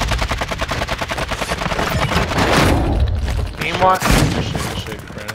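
Rapid automatic gunfire rattles through a video game firefight, loud and continuous with overlapping bursts and a couple of heavier booms, while a voice speaks briefly over it.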